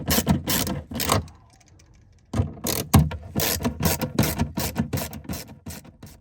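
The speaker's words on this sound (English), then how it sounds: "now we can start by threading in the screws into the drilled holes that we made" Screws being threaded into drilled holes in the rotomolded plastic walls of a first-generation Leitner GearPod, heard as a fast run of close ratcheting clicks in bursts with a short pause near the start.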